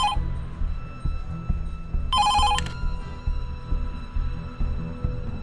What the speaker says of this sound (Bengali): ফোনটা বাজছে, একটু ধরো না।